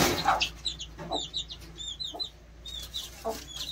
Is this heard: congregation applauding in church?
no